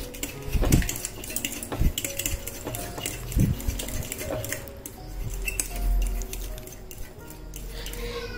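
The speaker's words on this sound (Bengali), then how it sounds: "খুব ভালোভাবে বাটা মশলাগুলোকেও মিশিয়ে নিচ্ছি।" A spoon clinks and scrapes against a bowl while ground cashew and poppy seed paste is mixed with spices, giving irregular close metallic taps with soft squishy stirring between them and no talking.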